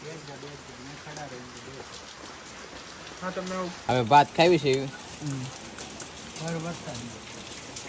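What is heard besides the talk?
rain falling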